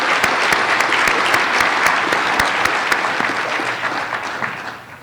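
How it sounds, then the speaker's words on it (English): A room full of staff at an all-staff gathering applauds steadily, dense broadband clapping holding strong for most of the stretch before tapering slightly toward the end. "let's have another round of applause"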